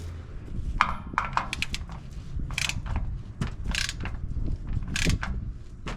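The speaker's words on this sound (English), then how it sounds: "we will also torque this down to 36 foot-pounds" Mechanical clicks and ratcheting from a torque wrench tightening the differential fill plug on a Toyota Tundra, a series of sharp clicks over a steady low rumble, fairly close, with no talking.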